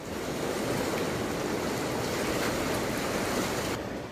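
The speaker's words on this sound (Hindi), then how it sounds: "ऋषिकेश में उफान मारकर बह रही गंगा लोगों के दिलों में दहशत पैदा कर रही है" The swollen Ganges surges at Rishikesh in flood, a loud, continuous broadband roar of rushing water that fills the scene without pause.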